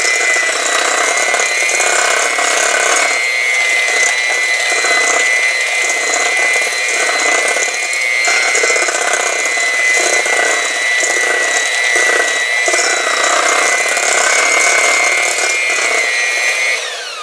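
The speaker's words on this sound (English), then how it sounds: "it basically just means mix the butter and the sugar together" Electric mixer creaming softened butter and sugar for a blackberry cobbler, a loud continuous motor whine with a steady pitch and faint rhythmic churning, running without talk for the whole stretch.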